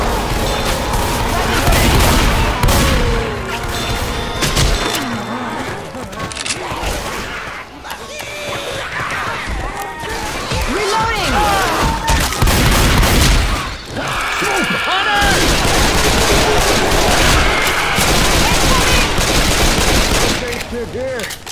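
Dense gunfire in the video game Left 4 Dead 2, with bursts of automatic weapons and booms in the survival mode Motel map, loud and nearly continuous, with shouted voices mixed in.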